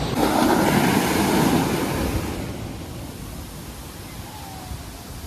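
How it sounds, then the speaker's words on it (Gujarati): Broad roar of sea waves surging close by on the Nikol shore, loudest at first and then easing into a steadier wash, with some wind rumble. "તો જો મિત્રો કેવી રીતના છે ને મોજા ઉછળે છે."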